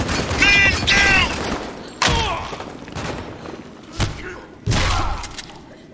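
Gunfire in a firefight from the video game Spec Ops: The Line: bursts of automatic fire and heavy impacts come in several loud clusters, with shouted voices mixed through the chaos.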